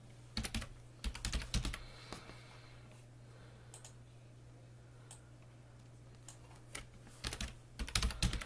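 Keys clatter on a computer keyboard in short bursts of rapid typing separated by quiet pauses, close and crisp over a low steady hum.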